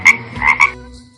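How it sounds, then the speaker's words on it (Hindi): A frog croaks in a short burst of three rasping calls, close and loud with nothing else around it. "फ्रॉग"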